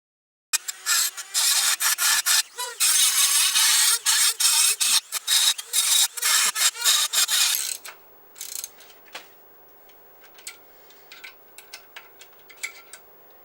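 A metal oil pan windage tray from a Land Rover Discovery 2 LS swap is cut in a rapid series of loud, harsh rasping strokes, followed by quieter scraping and clinking as the work eases off.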